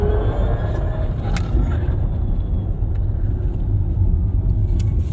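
A Neta V compact electric car drives along with a steady low road rumble and tyre noise heard from inside the cabin, continuous and fairly loud, with no engine note and no talking.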